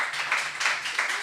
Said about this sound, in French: Voilà, on les applaudit.